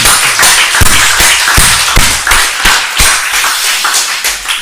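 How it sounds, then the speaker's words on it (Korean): Church congregation at a Baptist service clapping together in praise after a prayer, a steady run of loud, sharp claps with a roughly regular rhythm, close and filling the room. "주님께 박수를 드리겠습니다."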